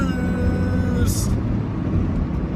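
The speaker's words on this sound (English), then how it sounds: "You can also hear the turbocharger, which is not something you get anymore." A turbocharged Merkur engine drones steadily from the cabin, and a brief high whistle from the turbocharger rises over the rumble. Some speech is mixed in.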